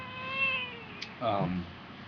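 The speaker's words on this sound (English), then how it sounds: "oh, there's my cat" A cat gives a couple of close meows, one drawn out and one shorter and rising, heard over quiet room background.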